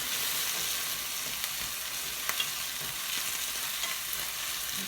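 Seafood stir-fried in a pan for a Thai pad cha dish, giving a steady loud sizzle with a few scraping stir clicks throughout, no talking.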